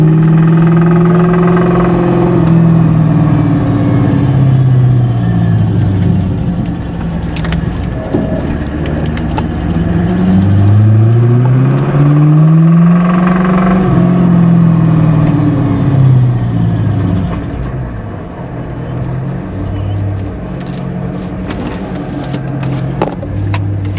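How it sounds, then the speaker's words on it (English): A car engine running with no oil and knocking, heard from close by as a loud, rough drone that rises and falls with revs over a long stretch, the knocking buried in the engine noise. "the engine is knocking, and there's no oil in it."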